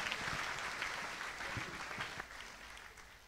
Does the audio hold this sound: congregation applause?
yes